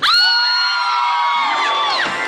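A concert crowd of fans screams and cheers in a loud, sustained burst of high-pitched shrieks and whoops, steady throughout and fading slightly at the end.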